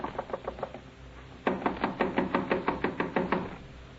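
Knocking on a rooming house door in an old radio drama, a few light raps followed by a louder burst of about ten sharp, evenly spaced knocks, close and alone.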